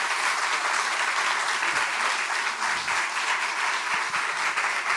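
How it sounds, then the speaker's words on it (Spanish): Audience applause after Josefina Licitra's talk on getting students to listen, a dense, steady roar of many hands clapping that fills the room without a break. "Un aplauso primero para Josefina Licitra."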